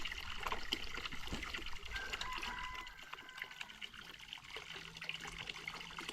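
Water poured over the body during a cold morning bath in the rural Thai countryside, a steady trickling and splashing that runs close and fairly loud through the whole stretch with no talking.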